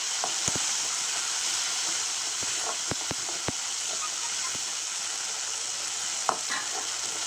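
Onion and tomato soften in hot oil for a fish curry, giving a constant hissing sizzle with scattered sharp taps and scrapes of a stirring spoon against the pan.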